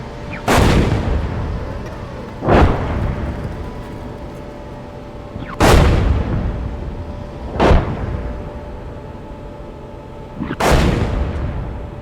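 Enemy artillery in the tank game GHPC lands in heavy booming blasts, five of them spaced a couple of seconds apart, each loud and sharp with a rumbling tail, over low steady engine noise and with no talk.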